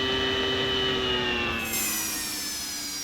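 Harrier AV-8B jets taxiing in the Falcon 4.0 BMS flight simulator, a steady loud jet engine whine and broadband rumble held for a few seconds, with a high hiss that drops away midway.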